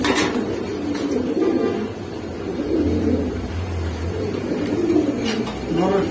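Giribaz and Pangkhi pigeons cooing close by in repeated soft, low rolling coos, over a busy background with faint traffic.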